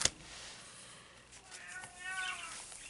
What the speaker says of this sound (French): Entendez-vous mon chat qui se plaint?